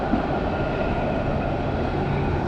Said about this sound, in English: And here's another streetcar passing by.